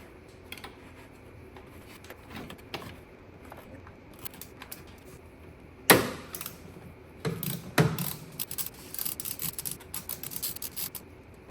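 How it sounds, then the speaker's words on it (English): A ratchet with an extension and swivel loosens a bolt on a Porsche Cayenne Turbo 958 engine, giving close, irregular metallic clicks and clunks with a few sharper knocks and bursts of ratcheting, no talking. "so I'm gonna remove that bolt so that this can flex some to give me enough room to reach that one"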